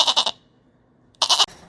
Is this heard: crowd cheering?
no